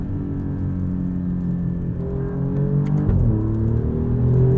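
A 2021 Alfa Romeo Giulia Quadrifoglio with its turbocharged V6 pulls through the gears from inside the cabin, a steady droning engine note rising in pitch, a brief dip at a shift, then climbing again.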